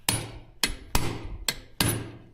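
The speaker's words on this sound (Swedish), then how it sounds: "Bigger hammer." A hammer strikes a chain five times at uneven intervals, each blow a sharp, close, ringing metallic hit that fades quickly, with no talking.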